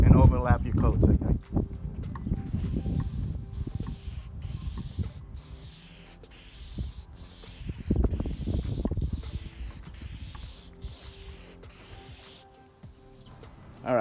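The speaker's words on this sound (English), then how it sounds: "we're going to spray a medium coat" Aerosol can spraying a coating onto a Honda Pilot car headlight during restoration, a series of hissing spray bursts in short passes with brief gaps, fairly close, while someone talks at the start.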